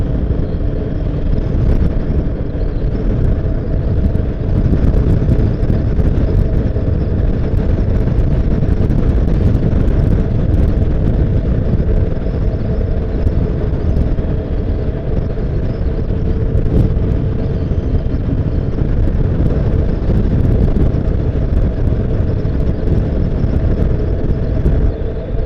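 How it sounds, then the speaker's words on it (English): Strong wind buffets the microphone at an exposed high spot, producing a loud, constant low rumble and roar that lasts throughout without letting up. "Very windy up here,"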